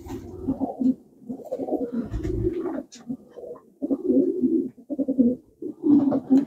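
Racing pigeons coo repeatedly in a loft, their soft throaty bursts rising and falling in close, overlapping phrases with brief pauses, loud and near.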